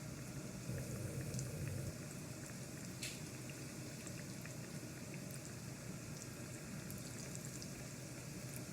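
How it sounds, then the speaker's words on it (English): Oil bubbling and crackling steadily in a large frying pan as doughnuts fry, a dense, continuous frying sizzle with no voices. "Just drop them gently in our oil."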